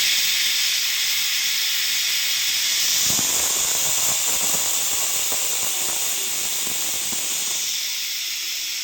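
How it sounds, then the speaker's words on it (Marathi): A pressure cooker cooking khichdi vents steam through its whistle as a steady, loud, unbroken hiss, with faint kitchen clatter beneath and no talking. "लगेच 2 ते 3 मिनिटामध्ये कुकरची शिट्टी झाली"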